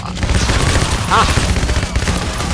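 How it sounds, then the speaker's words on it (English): A shotgun fires in the video game PAYDAY The Heist, with dense, loud bursts of gunfire that run continuously through a rough, busy game mix. "I love the shotgun if only because it'll be saving myself in the game"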